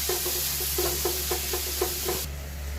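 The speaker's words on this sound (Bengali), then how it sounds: "এইবারে আমি ভালো করে কষিয়ে নেব মশলাটা" Masala with ground coriander, cumin and a little sugar is sautéed in a frying pan, a steady close sizzle with a rhythmic series of spatula scrapes and taps until the stirring stops.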